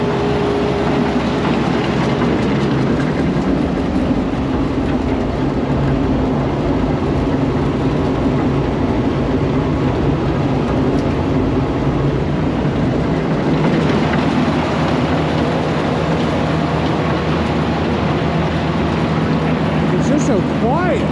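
A Massey Ferguson 82 combine runs at high throttle, a loud, steady mechanical roar with rattling that continues throughout, with voices talking over it.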